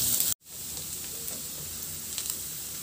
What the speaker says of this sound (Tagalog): Magpainit na rin ako ng mantika at igisa ko na yung bawang.